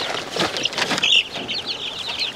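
Baby chicks kept outdoors behind small tote wind blocks, peeping in quick, high, overlapping chirps, close and steady over a short stretch.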